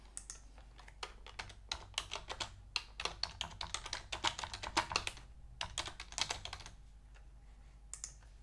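Typing on a computer keyboard: a steady, close run of light clicking keystrokes in quick bursts, with brief pauses between, fairly quiet and without voices.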